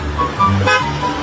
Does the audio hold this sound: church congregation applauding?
no